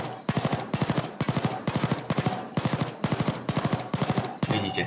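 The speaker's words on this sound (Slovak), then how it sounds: "Tieto stačí pár razy do nich streliť a sú vylomené, hej." Rapid automatic gunfire blasting at doors in the video game Payday 2, loud sustained bursts of evenly spaced shots with brief gaps between volleys, no talk.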